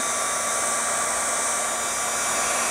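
A small heat dryer used to dry watercolor paint runs steadily with a constant whirring blow and hiss, close and loud throughout.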